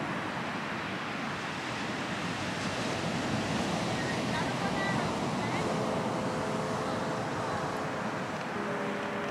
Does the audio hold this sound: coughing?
no